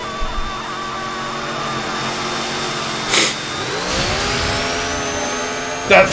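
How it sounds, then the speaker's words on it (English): Chainsaw revving in the Chainsaw Man anime, a loud, whining motor tone that climbs in pitch midway, with sharp bursts of other sound effects layered over it. "The power of the chainsaw,"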